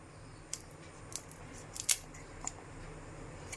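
A sharp knife cuts banana flower for a snack recipe, making a few crisp, brief snips and crunches spaced across a quiet background.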